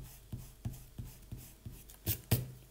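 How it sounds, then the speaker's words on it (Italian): A rubber eraser rubs hard across drawing paper in short, even back-and-forth strokes, about eight soft scrubbing pulses in a steady rhythm, close and quiet, ending with two slightly louder strokes. "se io cancello qui, anche se metto molta forza sulla gomma"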